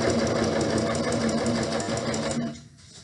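Sewing machine running on a pillowcase, a loud, dense mechanical chatter at steady speed that cuts off near the end, leaving a quieter background.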